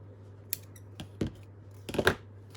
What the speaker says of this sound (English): then you can cut your excess thread off